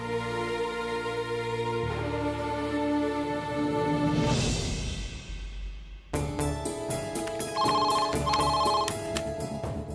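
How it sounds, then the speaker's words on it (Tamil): A telephone rings while a call goes through to a travel agency: a tonal ring sounds over a steady background and then repeats as a brighter, pulsing ring pattern, clear and close. "டிராவல்ஸ்க்கு ஃபோன் பண்ணி பார்ப்போமா?"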